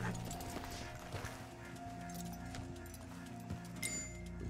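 Horse hooves clip-clopping in the Red Dead Online video game, a quiet repeated thudding under game music and ambient sounds.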